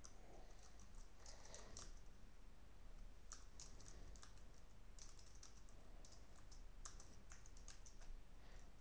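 Typing on a computer keyboard produces quiet, irregular bursts of key clicks that come and go against a faint hiss, with no voices.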